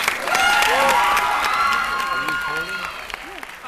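At the SMC Mr. Pioneer 2011 pageant, the audience applauds and cheers for the contestants on stage. Loud clapping mixes with whoops and shouting voices, then thins slightly near the end.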